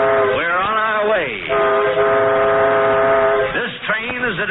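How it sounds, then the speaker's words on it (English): A train whistle sounds with long steady tones, then the train pulls away in a radio drama sound effect, loud and close, with a voice talking over part of it. "Blow the whistle. We're on our way."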